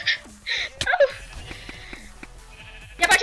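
Sheep bleating in the video game Sheep Quest, a few nasal bleats early on, then quieter clicks and game sounds, then another bleat burst near the end, fairly faint overall.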